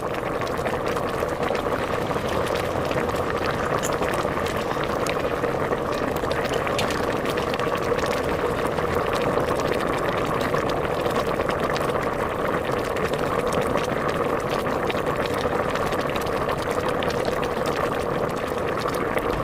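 Continuous low bubbling and simmering of brinjal and chickpea curry in a covered pot, steady and unbroken throughout, heard up close.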